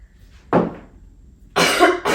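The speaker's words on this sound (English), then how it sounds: "I really hope this workout is not just me coughing." A person coughing during a home workout: one short close cough followed after a pause by a longer, harsher double cough, loud and near with no talk.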